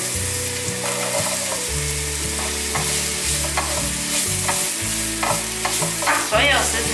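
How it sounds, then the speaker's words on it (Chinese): Shredded carrot and shiitake mushrooms are stir-fried in oil, a continuous sizzle broken by repeated scraping and tossing strokes of a spatula in the pan, with music playing underneath. "把所有食材炒香炒熟"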